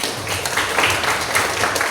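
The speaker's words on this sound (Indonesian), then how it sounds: "Oke, tepuk tangannya." A classroom of people claps together in a steady, continuous burst of applause at moderate loudness.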